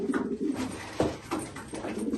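Pigeons cooing close by in a coop, a few soft, throaty coos repeating in a loose rhythm with no talking.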